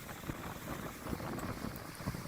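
Wind and waves on the Cornish coast make a faint, steady rush of gusting air and surf, with microphone buffeting and no voices.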